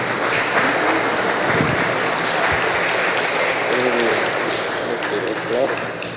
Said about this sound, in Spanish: Vamos a darle ese abrazo, ese aplauso al Señor con toda nuestra fuerza.